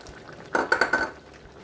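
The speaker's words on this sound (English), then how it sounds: "I'll stir that up together" Chopped sweet pepper stirred in a cooking pot while making okra and ogbono soup, a short cluster of four spoon scrapes and clinks against the pot, close and fairly loud with no talk.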